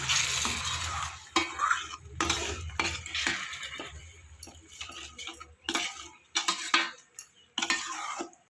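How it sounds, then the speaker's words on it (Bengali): Spice masala being stirred and sautéed in a pan for a Bengali cauliflower kosha, with repeated scraping and clinking of a spoon against metal in bursts and faint sizzling between strokes, close up with no talking. "দিয়ে ভালো করে মশলাটা কষাবো"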